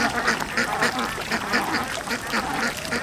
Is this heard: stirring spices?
no